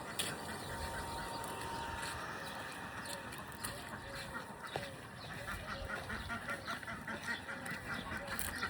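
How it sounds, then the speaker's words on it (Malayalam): Ducks on a farm in the UAE quack repeatedly, fairly faint and at some distance, over a constant dense background of outdoor farm noise and wind. "ഫാമിലെ താറാവ്"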